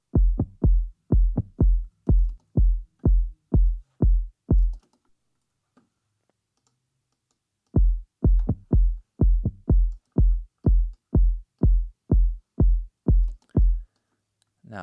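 A programmed, syncopated drum beat with pitched, filtered kick percussion plays alone in two loud bursts of rhythmic hits, separated by a pause of near silence in the middle.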